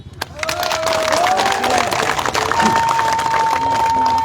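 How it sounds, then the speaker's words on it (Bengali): Loud applause and cheering from a large crowd at a political leaflet distribution event in a market, continuous and dense, with whistles rising over the clapping. "আমরা সবাই মিলে একটা হাততালি দিই"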